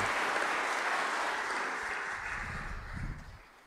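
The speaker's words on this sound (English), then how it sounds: "Let's give them a round of applause." Congregation applauding at a Saturday vigil Mass for those just blessed, a broad steady wash of clapping that fades toward the end.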